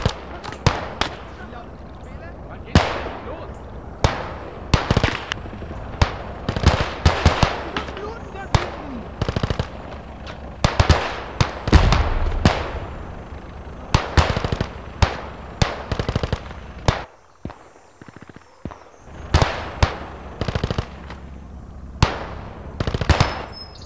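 Gunfire and tank cannon fire from the World War II game Gates of Hell on the Eastern Front: repeated sharp, loud shots and bursts at an irregular rhythm, some distant, some close, with voices occasionally between them.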